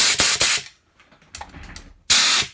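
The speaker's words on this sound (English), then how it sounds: "I gotta plug into my air compressor" Compressed air hose blasting air across a chainsaw spark plug gap: two loud hissing bursts at the start, a quieter rattly stretch, then another strong hiss at the end, close up.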